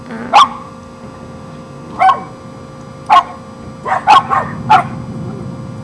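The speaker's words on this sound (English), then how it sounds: "I'm really sorry that they keep barking." Dogs bark in sharp, separate bursts, a few single barks spaced apart, then a quicker cluster near the end, over a low steady background hum.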